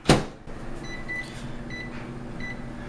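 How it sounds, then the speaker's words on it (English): A microwave oven clunks shut and then hums steadily, a low even drone with faint periodic beeping tones over it and no talking. "Pop it in the microwave."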